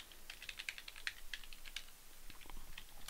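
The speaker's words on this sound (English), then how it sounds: "You just type if player 1" Light, fairly quiet tapping on a computer keyboard while code is typed, a short run of soft irregular keystrokes with no voices.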